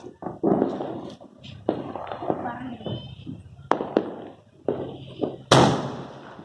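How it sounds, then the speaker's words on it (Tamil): Sky shot fireworks launch, pop and crackle amid voices at a Diwali celebration, with sharp cracks and a loud, bright burst near the end, set against steady low background noise. "ஸ்கை ஷாட் வச்சுருக்கோம் மேலே போய் வெடிக்கும்"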